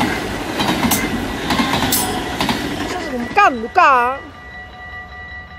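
A train runs past on the track at Roermond, with rumbling clatter and rhythmic wheel clicks that end in rising and falling squeals, close and loud, while someone speaks over it.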